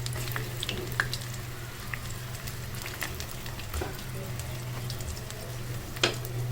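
Garlic frying in hot mustard oil gives a steady, close sizzle with a low hum underneath and a few sharp pops and clicks scattered through it.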